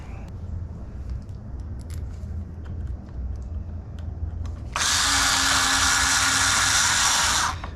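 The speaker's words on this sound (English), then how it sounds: "Pretty good screwdriver." Electric screwdriver whirs in a steady high buzz for a few seconds during rekeying work in a vacant house, rising out of quiet room noise and light handling clicks.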